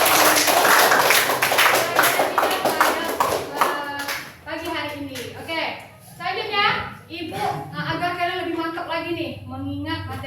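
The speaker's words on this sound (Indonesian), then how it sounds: "tepuk tangan kepada untuk Sela dan juga Irgi" Students in a classroom clap for classmates, a burst of fast, close hand claps that fades within a few seconds as children's and a teacher's voices take over.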